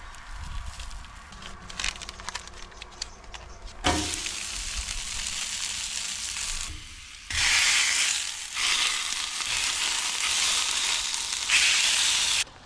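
Sausages frying in a pan, a loud close sizzle that swells in bursts as they are moved, with clattering and scraping early on and no speech.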